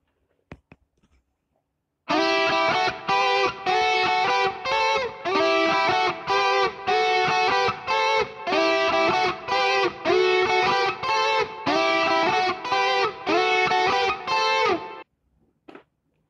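Distorted electric guitar plays a second harmony line, a steady run of bright, gritty picked notes at even tempo for about thirteen seconds, close and alone after a brief quiet start.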